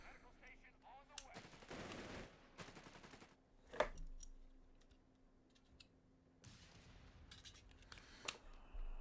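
Short bursts of machine gun fire rattle across a Company of Heroes 3 match on the Operation Torch map, sporadic and moderately distant, mixed with a sharp explosion and quiet battlefield noise.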